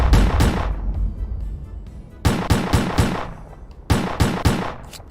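Video game gunfire in S.T.A.L.K.E.R.: Clear Sky: one booming shot fading out, then a pause, then two loud clusters of rapid sharp shots.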